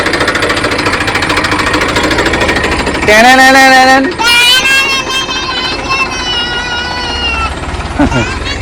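A tractor engine chugs steadily at close range on a groundnut farm, its rapid pulsing rhythm running throughout while people talk over it.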